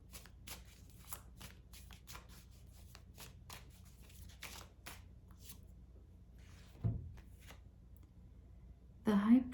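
Tarot cards shuffle and are drawn in soft, repeated riffling bursts across the first half, then a quieter stretch with a brief thump and a sharper rustle near the end, all fairly faint and close.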